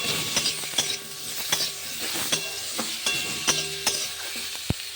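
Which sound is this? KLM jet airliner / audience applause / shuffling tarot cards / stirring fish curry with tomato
stirring fish curry with tomato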